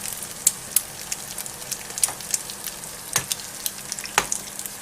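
An egg fries for an omelette in a hot pan at home, a quiet bed of sizzling broken by sharp crackles and spits scattered irregularly across the clip, with no talking.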